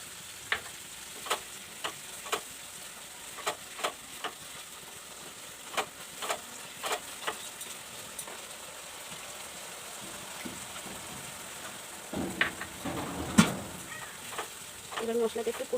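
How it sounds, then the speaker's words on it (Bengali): Spice masala with yogurt and cashew paste sizzles in a pan for a vegetarian palak paneer, with regular scraping stir strokes knocking against the pan over a constant frying hiss. "এবার মশলাটা একটু কষিয়ে নিচ্ছি।"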